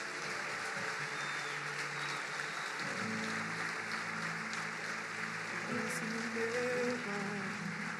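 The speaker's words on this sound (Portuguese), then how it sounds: "Levante suas mãos e aplauda bem forte ao Senhor" A congregation at a church service applauding hard, a dense steady wash of clapping that lasts throughout, with a sustained musical tone underneath and no pause in the clapping.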